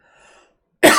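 A single abrupt, loud cough or throat-clearing jolt at the very end, after a faint hum of sound, as a man clears phlegm from his throat.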